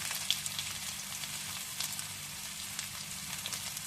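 Chopped garlic and cumin sizzle steadily in hot oil for a North Indian dal, a dense, even crackle with faint popping throughout and no voices.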